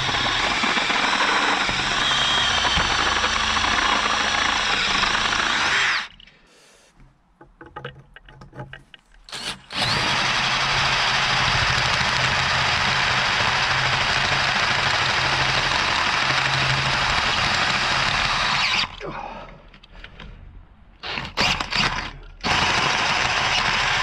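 A step drill bores a 14 mm hole in custom handlebar switchgear for a Triumph T140 chopper, a loud continuous grinding whine running steadily with a brief drop midway and another short break near the end.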